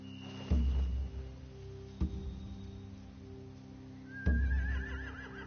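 A horse in a PS4 video game whinnies loudly twice with a third shorter neigh between, over a quiet ambient background, close and clear.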